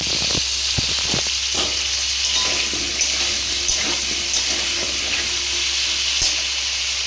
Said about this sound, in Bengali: তো আলুর মধ্যে এই যে তেলের মধ্যে আলুগুলো আমি দিয়ে দিচ্ছি। আলুগুলোকে ভেজে নেবো আমি নুন হলুদ দিয়ে।